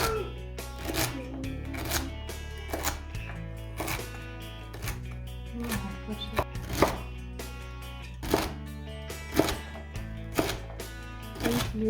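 A knife chopping tomatoes on a board for a lagman topping, a run of sharp, evenly paced chops close up, with a faint murmur of talk underneath.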